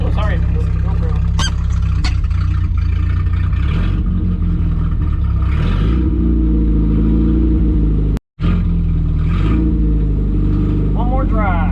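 A 1972 Opel GT, revived after decades sitting in a junkyard, runs with a loud, rough engine rumble and revving throughout, with people talking over it and a brief dropout partway through.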